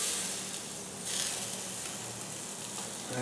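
Onions frying on a grill beside bacon, a steady close sizzle and hiss that stays even throughout with small crackling variations.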